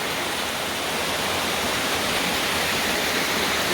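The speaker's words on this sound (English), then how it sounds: "There's even another little waterfall coming off the right here" A small waterfall at Caboolture River Falls in Queensland pours over rocks, a loud, steady, close rushing roar with no breaks and no voices.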